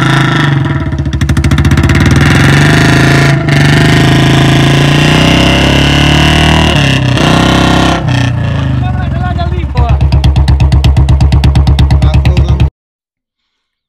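A Royal Enfield Bullet BS6 single-cylinder motorcycle engine running loud and close, its thumping idle broken by sharp cut-outs and popping bursts as a pataka ignition switch is flicked on and off, with rapid firing toward the end before stopping.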